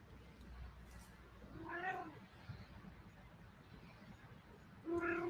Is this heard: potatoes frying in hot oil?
no